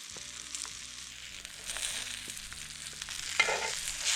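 Baguette pieces toast in sizzling butter over a campfire on a winter riverside camping trip, a steady close crackle and hiss that swells slightly with a few sharper pops, and no voices.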